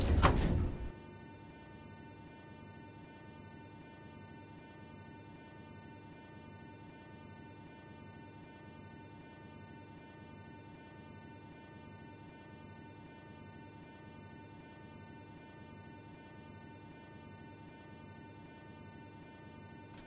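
Subway car doors on an 81-717 train slide shut with a short, loud clunk at the start in Moscow Metro Simulator 2D, followed by a long, steady, quiet motor hum with no talking.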